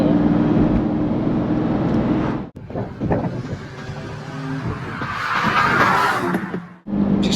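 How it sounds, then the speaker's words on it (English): A Lamborghini Diablo SV drives along a sunny country lane in Yorkshire, its engine a loud close roar that drops out abruptly twice, then revs back up strongly with rising pitch. "Just having a little blast in the sunshine down a beautiful country lane In Yorkshire. in Yorkshire in a bloody Lamborghini Diablo."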